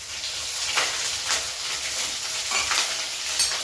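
Garlic sizzles steadily in hot oil in a home kitchen pan while cooking a Gujarati sev-tomato curry, a continuous close frying hiss with occasional stirring bursts and no talk.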